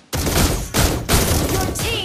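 In the Mobile Legends video game, Granger's ultimate fires three loud, heavy gunfire bursts in close succession with hard, punchy onsets, sounding right up front.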